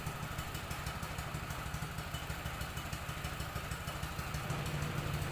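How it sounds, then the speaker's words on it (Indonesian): A small water pump engine running to drain a swimming pool during vacuuming, a steady close chugging drone with rapid even pulsing and a faint clattery edge, no voices. "sekarang sudah hidup mesinnya, kita tunggu airnya keluar dulu ya teman-teman"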